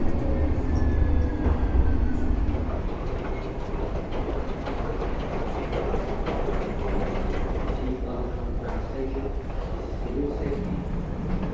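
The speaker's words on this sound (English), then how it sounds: "the DLR dives down underground into a tunnel." A DLR train runs through an underground tunnel toward Bank Station, a loud, steady rumble with rail clatter and faint wheel squeal heard from inside the carriage.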